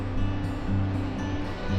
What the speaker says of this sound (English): the waves crashing into the shore are enormous